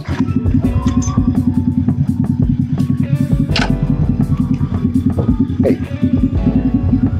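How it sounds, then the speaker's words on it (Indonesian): A custom Harley-Davidson Road Glide with a weak battery, kick-started and then idling in a loud, rapid, rhythmic thump, with a brief rev in the middle and mechanical clatter throughout. "Karena akinya agak tekor, ya di oklek dulu ya."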